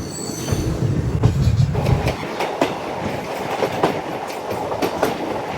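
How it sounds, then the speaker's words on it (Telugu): DEMU train 77204 pulling out of Kurnool City after a delay, wheels clattering rhythmically over rail joints with a brief squeal at the start, heard from inside the coach with the rumble steady and close. "7 నిమిషాల డిలేలో మన ట్రైన్ స్టార్ట్ అయింది"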